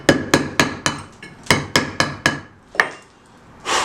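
A hammer drives a flat chisel into stone in a run of sharp, ringing strikes, about eight in quick succession, a pause, then one more blow, close and loud with no voices.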